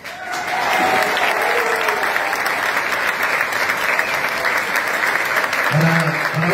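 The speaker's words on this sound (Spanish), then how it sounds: "Para vos son los aplausos" Audience applause at a live folk music performance, a loud, dense and steady roar of clapping hands that fills the whole stretch, with a voice rising briefly near the end.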